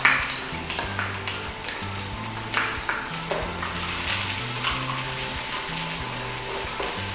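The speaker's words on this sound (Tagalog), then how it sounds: "ako inuuna ko yung garlic para mag-release ng aroma yung garlic sa oil. Then, yung ating sliced onion." Garlic and sliced onion sautéing in hot oil, a steady close sizzle with occasional stirring clinks and scrapes, alongside a faint tonal hum, with no talk.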